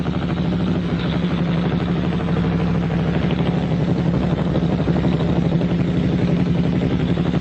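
Motorcycles ridden by US dispatch rider trainees on a training course, a dense, continuous engine drone that holds steady and loud throughout, with no voices.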